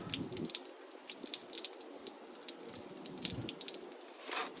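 Water trickles and drips steadily from a broken water heater being drained, a continuous splashing flow with faint irregular gurgles and no voices.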